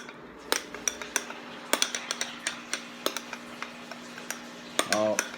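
Shaving gel is mixed in a small dish with a utensil, giving sharp clinks and taps at an irregular pace, close and fairly loud, with a brief frothy squelch near the end.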